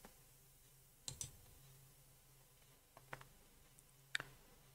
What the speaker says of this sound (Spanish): le vamos a hacer un clic con el botón izquierdo del ratón